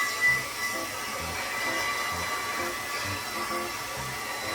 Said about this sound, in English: I'm gonna go ahead and diffuse